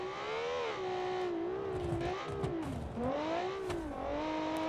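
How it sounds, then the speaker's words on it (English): A cross-country racing SUV engine in a video game revs steadily, its pitch rising and falling in smooth sweeps, loud and continuous throughout. "The engine sounds good, obviously. It sounds like a race engine"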